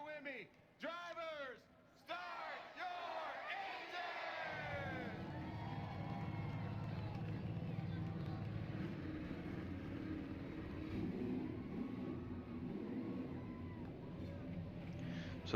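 Race trucks firing their engines at the Auto Club Pro Truck Series race: a low, steady roar rises after a few seconds and holds, under continuous announcer talk.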